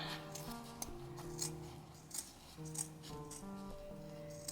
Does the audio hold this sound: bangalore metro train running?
no